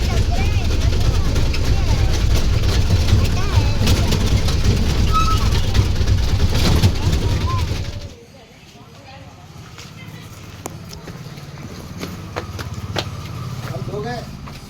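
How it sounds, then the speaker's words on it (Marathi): An auto rickshaw ride in Akkalkot, the small engine and road rumble loud and close for about eight seconds, then a sudden cut to quieter, sparse surroundings, with talk heard throughout. "आम्ही आता इथून रिक्षा केली आहे अक्कलकोटवर"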